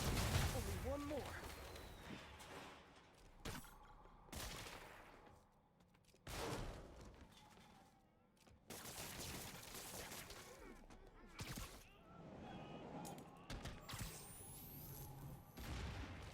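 Gunfire bursts and booms in a Marvel's Spider-Man Remastered game fight, sharp shots and rattling volleys recurring in clusters over a dense game soundscape, with someone talking over much of it.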